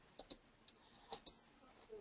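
Sharp computer mouse clicks while using Popup Card Studio card-design software: two quick double-clicks close together, then a second pair about a second later, crisp and near over a quiet room.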